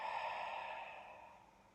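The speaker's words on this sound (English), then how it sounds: "Take a deep inhale through the nose. And a lovely big exhale." A deep, slow exhale through the nose during yoga breathing, a soft airy rush that fades gradually, heard close and alone.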